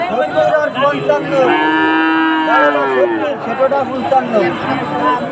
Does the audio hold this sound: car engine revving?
no